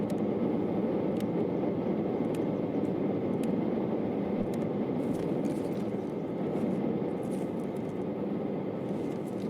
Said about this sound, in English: I'm not going to talk while there's airplanes in the sky.